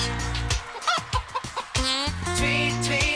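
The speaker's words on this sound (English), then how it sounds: "a rooster is a crowing" A cartoon-style chicken and rooster cluck in short bursts with a crowing call near the end, set against a steady musical backing.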